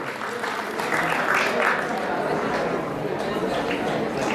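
An audience at the Basant Panchami fair at Kanvashram, Uttarakhand, gives steady, dense applause throughout, with faint chatter mixed in.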